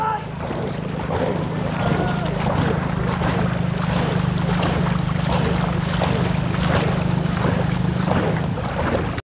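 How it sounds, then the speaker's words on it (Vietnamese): A ghe ngo racing longboat is paddled hard on open water, giving a continuous rush of water and wind with rapid rhythmic strokes and a low steady hum, and voices under the noise. "Ở nhịp độ này, ở tốc độ này thì chiếc ghe ngò của ông Kho đi rất là đồng luôn."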